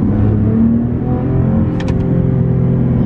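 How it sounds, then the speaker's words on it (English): Maserati Ghibli S Q4 accelerating in sport mode: a loud, close engine growl with a steady low drone, with a couple of brief higher-pitched rasps near the end and no talking. "Now I'm just going to put it into sport mode. And immediately, it sharpens the throttle response and it changes the noise of the car."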